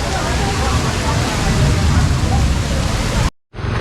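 Sudden heavy monsoon rain in the Konkan region, a dense, steady roar of downpour close by that fills the whole clip before briefly cutting out near the end.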